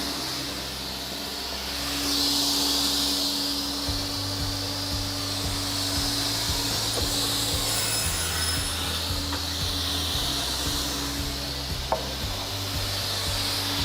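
A saw cuts wooden side pieces for upper cabinets, a steady grinding drone with the pitch shifting every few seconds as the blade works through the wood, heard alone with no talk.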